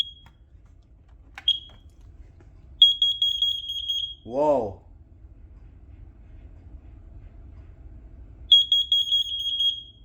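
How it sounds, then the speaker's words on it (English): Carbon monoxide alarms under test give sharp high electronic beeps in bursts, with a chirp, a sudden low honking blast in the middle, and more beeping at the end, plus a brief exclamation from a person. "let's test the carbon monoxide alarms"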